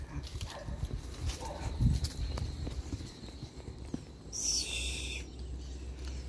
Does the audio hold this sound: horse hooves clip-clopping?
yes